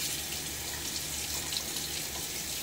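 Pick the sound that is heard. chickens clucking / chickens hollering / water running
water running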